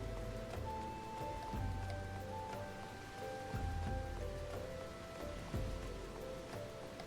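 Rain falls on pavement in the video game Final Fantasy XIV, a soft continuous patter of drops, faint and steady throughout, with low musical tones underneath.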